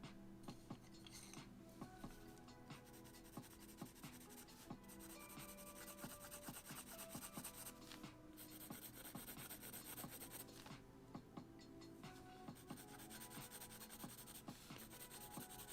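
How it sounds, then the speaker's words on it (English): Colored pencils scratch across sketchbook paper in quick, repeated strokes, a faint, close, continuous rubbing with a steady back-and-forth rhythm and no talking. "Let's see if I try colored pencils first."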